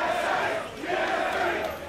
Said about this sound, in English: The crowd chanting their favorite tri codes for their favorite team.